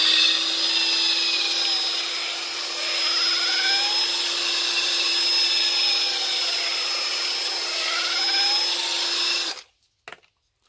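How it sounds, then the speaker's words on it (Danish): A homemade wooden dowel is sanded with a piece of sandpaper, making a steady, continuous whirring rasp for about nine seconds before it abruptly stops. "Så tager man simpelthen bare et stykke sandpapir."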